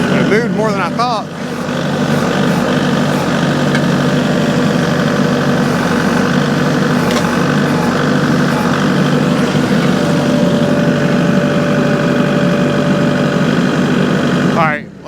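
A tractor engine idles steadily while it pulls up a tree on a homestead, a loud, continuous low rumble heard up close that fades at the very end.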